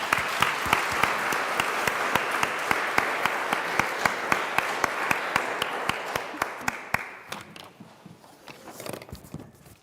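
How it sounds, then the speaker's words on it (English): Applause from an audience at an annual general meeting, a steady wash of clapping with one sharp, evenly spaced clap standing out, thinning and fading away over the last few seconds. "Let's give them all a round of applause."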